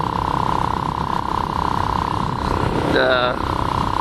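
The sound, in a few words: motorcycle riding, engine running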